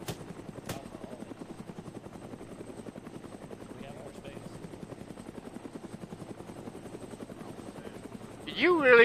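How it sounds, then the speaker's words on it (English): Military helicopters in a milsim shooter game, the rotor blades thumping in a fast, even rhythm throughout and swelling louder near the end as a chopper closes in. "We're just waiting for the choppers, or waiting for everybody to get in."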